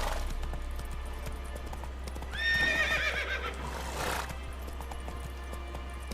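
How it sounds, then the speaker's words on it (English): A horse in The Witcher 3 neighs loudly in a bright rising whinny midway, while steady hoof clip-clops run throughout over a constant low game hum; no speech. "말 타는 중에 이거밖에 안 돼? Not so fast, Roach"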